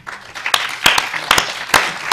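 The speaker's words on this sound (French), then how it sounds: "j'aimerais qu'on l'applaudisse pour avoir accepté ce challenge" A seated audience at a French teaching workshop claps for a participant, with loud, separate hand claps standing out over a softer background patter of clapping.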